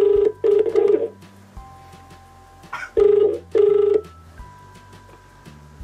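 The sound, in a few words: telephone ringing for a prank call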